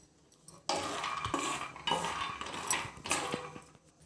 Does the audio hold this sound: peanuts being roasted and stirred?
yes